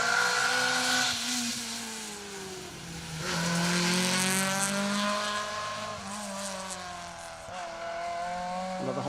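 A Honda Civic rally car on an asphalt stage at Rally Ceredigion 2023, engine rising and falling through gear changes as it passes, with tyre squeal and a steady roar that swells and fades over several seconds, no voices.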